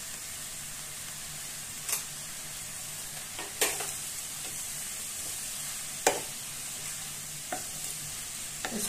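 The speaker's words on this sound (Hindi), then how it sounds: "इसको हिलाएंगे अच्छी तरह से" Amaranth greens sabzi with red chilli, coriander and turmeric being stirred in a pan over low heat, a quiet even sizzle with a few scattered scrapes of the spoon, no voices.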